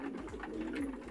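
Domestic pigeons kept in a loft coo in low, throaty repeated notes, close and steady over a dense background murmur.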